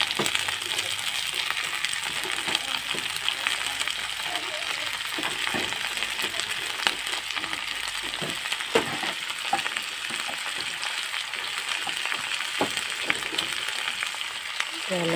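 Chickpeas, diced potatoes and pointed gourd tumble into a pan of browned onions, setting off a steady close hiss of frying with scattered clatters and scrapes as pieces drop and shift in the hot oil.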